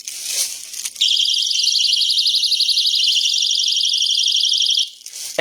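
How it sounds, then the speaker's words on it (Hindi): Personal emergency alarm keychain, the kind clipped to a child's school bag, blaring a loud, steady high-pitched warbling siren for about four seconds before cutting off, with faint background noise around it. "इमरजेंसी अलार्म सिस्टम अपने बच्चों के, बेटियों के बैग के अंदर ये लाजम होना चाहिए, की चेन"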